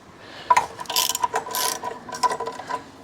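A ratchet clicks in short bursts while tightening the skid plate bracket bolts on a 2024 BMW R1250 GSA, close and crisp, with quick pawl rattles separated by brief pauses.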